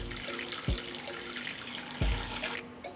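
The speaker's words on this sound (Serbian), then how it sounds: "I zatim ću sipati vodu u šerpu do visine poklopca." Water pours into a cooking pot lined with a cloth and holding jars, a continuous splashing gush with a couple of heavier thumps near the start and middle, then stopping abruptly near the end.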